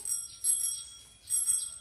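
A bicycle bell on a new bicycle rings in several quick bright bursts, close and fairly loud, with short pauses between the rings and no talk over it.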